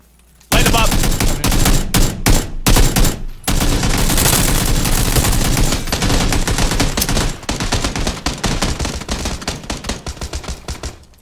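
Heavy automatic gunfire rattles in a video game firefight, loud and dense bursts with brief gaps near the start, then sustained rapid fire and crackling shots continuing to the end.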